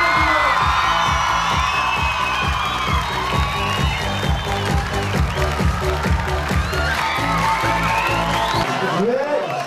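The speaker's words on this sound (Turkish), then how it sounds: "Yine yüksek alkışlarınızla Halil İbrahim Gökçen'i sahneye" An audience at a university comedy stage show claps in a steady rhythm while whoops and cheers rise over it, with a voice and tonal sound carrying above the crowd until it cuts off near the end.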